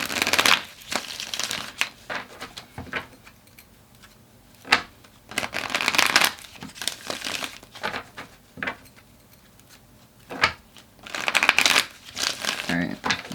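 Tarot cards are shuffled by hand in repeated riffling, crinkly bursts, close and moderately loud, with quieter pauses between each burst of shuffling.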